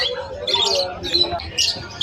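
Opaline pet bird with an orange hood chirps and squawks in short bursts at a busy pet market, its calls mixed with people talking close by.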